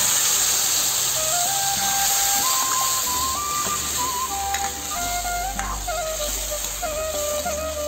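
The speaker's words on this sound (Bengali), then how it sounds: "অল্প একটু জল দিয়ে মশলাটা একটু কষাই নেব।" Spice paste frying with a little water in a pan for Bengali khichdi: a steady, close sizzle and hiss runs through the whole stretch, with faint stirring scrapes and no talk over it.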